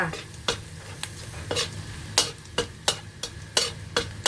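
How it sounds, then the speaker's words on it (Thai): Salted egg yolk being stir-fried in a pan for shrimp fried rice: a steady sizzle runs throughout, with rhythmic spatula scrapes against the pan about twice a second, close and clear. "ผัดไข่แดงเค็มนะคะ"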